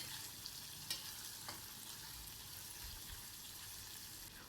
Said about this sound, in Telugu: ఉల్లిపాయ వేగడానికి కొద్దిగా సాల్ట్ కూడా వేసుకుని వేయించుకోవాలి